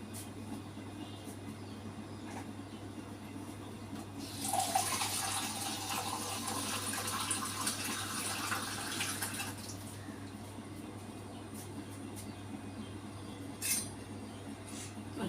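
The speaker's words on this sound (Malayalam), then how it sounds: "കുറച്ച് വെള്ളം ഒഴിക്കാം" Water poured into a cooking pan over a low constant hum, a rushing splash of about five seconds, then quiet background with a faint clink later.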